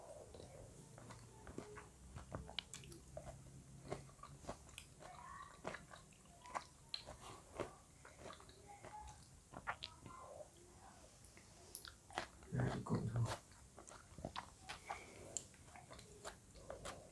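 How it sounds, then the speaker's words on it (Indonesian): Soft, close mouth sounds of someone eating bottle gourd soup made without salt or oil: scattered wet clicks and chews spread over a quiet background, with a louder rustling burst near the end. "Saya lanjut makan dulu ya"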